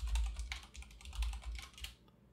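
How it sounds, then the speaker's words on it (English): Fast keystrokes on a computer keyboard as a password is typed into a Linux terminal, a quick run of close, light clicks that stops near the end. "Type your password."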